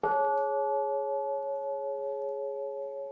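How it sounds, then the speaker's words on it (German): A church funeral bell struck once, giving a clear close metallic clang that hums on as a long, steady, slowly fading ring. "Das ist unsere Beerdigungsglocke. Sie hat auch so einen ganz jenseitigen Klang."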